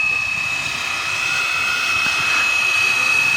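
A scale model EC145 helicopter flies outdoors at UP Field. It gives a loud, steady, high-pitched turbine whine with a constant rotor drone that holds throughout without a break.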